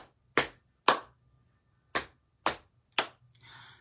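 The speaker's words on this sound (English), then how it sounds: "So get your clapping hands out." Five sharp hand claps ring out alone in an irregular rhythm during a preschool storytime song, each crisp and close, followed by a faint rustle.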